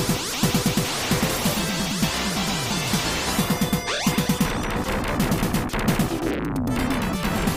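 Music from the first level of the Contra video game, built on a fast, repeated staccato figure that mimics machine-gun fire, driving steadily under dense, loud layers of music.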